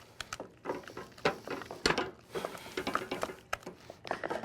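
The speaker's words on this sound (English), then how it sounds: "It's like a folding and a stirring action." Choux pastry dough being folded and stirred in a pot for profiteroles, soft close scrapes and light irregular knocks of a spoon against the pot, with no talking.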